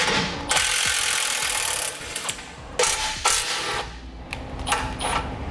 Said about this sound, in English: we'll use a 15mm socket to remove the 4 bolts so that we can take our bumper core off